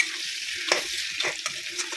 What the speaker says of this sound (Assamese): এনেকৈ লৰাই অকণমান তেলটো কমি যোৱালৈ ৰ'ব